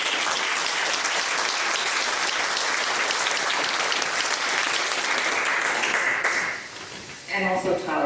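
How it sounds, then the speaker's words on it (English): Audience applause at a Rotary club meeting, a steady wash of many hands clapping loudly that fades out near the end, followed by a few scattered claps. "Another round of applause for our young."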